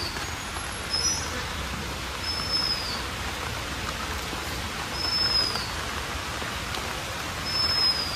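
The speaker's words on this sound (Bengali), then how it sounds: "বৃষ্টি পড়ছে।" Rain falls steadily outdoors at a fish market, a soft continuous patter close around, with a few faint high chirps in the distance and no talk.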